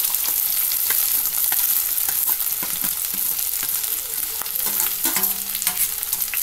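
Chopped okra, onion and green chilli fry in coconut oil over tempered mustard seeds, giving a bright, constant close sizzle with scattered crackles and stirring clatter.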